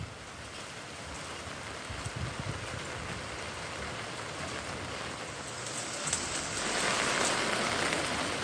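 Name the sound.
continuous heavy rain falling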